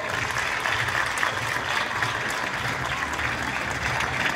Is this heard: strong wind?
no